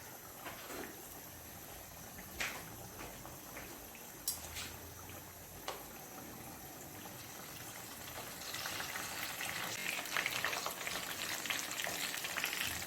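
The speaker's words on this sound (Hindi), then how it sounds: "अब इसको डीप फ्राई करना है।" Potato barad deep frying in oil gives a faint, steady crackling sizzle that swells busier and denser toward the end, broken by a few light utensil taps.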